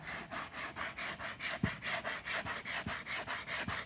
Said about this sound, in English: I'm going to come back in with some sandpaper